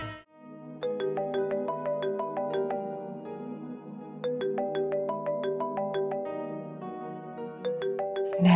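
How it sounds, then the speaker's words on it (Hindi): A phone ringtone for an incoming call plays a repeating bright melodic pattern, loud and close, cycling continuously with no other sound. "नैना जी की कॉल आ रही ह"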